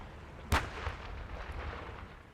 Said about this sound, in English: Warplanes and artillery targeted areas controlled by Hamas.